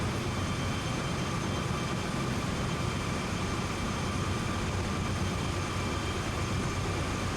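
A freight train engine drones steadily at notch 4 while hauling a grain train up a grade in Train Sim World 2, a constant, loud, unbroken rumble with no talk.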